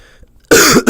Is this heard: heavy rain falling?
no